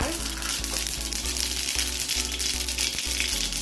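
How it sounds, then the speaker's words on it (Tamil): Mustard seeds crackle and spit in hot oil in a pan, a steady close, dense sizzle with frequent small pops running throughout. "இந்த கடுகை இருக்க போடப்போம் கடுகு வடிக்கவும்"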